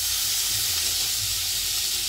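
Pointed gourd (potol) frying in a pan, a steady, dense sizzling hiss that holds unbroken throughout, close and fairly loud, with no voices.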